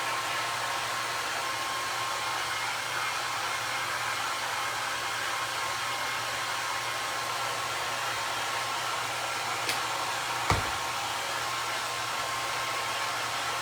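A hair dryer blows steadily to dry a no-sew primitive elf Christmas craft stocking, a constant close airy whoosh with a faint hum that holds level throughout, broken only by a brief click near the end.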